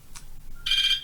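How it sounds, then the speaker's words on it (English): A mobile phone goes off during a recorded lecture, giving a short, bright electronic ringtone burst that starts abruptly and sounds fairly loud and close. "that's my phone going off."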